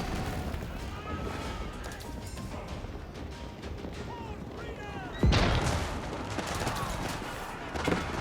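Bombard cannons firing in an Age of Empires battle between English and Delhi Sultanate armies, a heavy blast about two-thirds through amid scattered gunfire and clashing, with a commentator talking over it.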